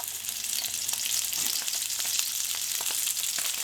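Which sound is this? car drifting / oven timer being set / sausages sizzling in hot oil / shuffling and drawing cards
sausages sizzling in hot oil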